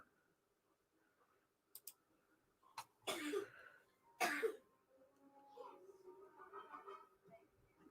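A few sharp coughs nearby in a quiet room, followed by soft, low talking.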